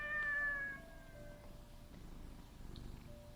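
A cat meows in a quiet indoor setting, a couple of drawn-out tonal calls standing alone with low background hum.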